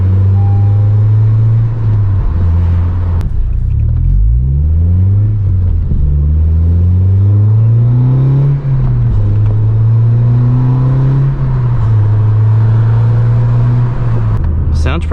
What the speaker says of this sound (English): I can hear it sucking in the air.